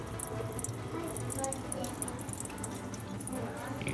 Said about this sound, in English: you're gonna hear the canisters start to fill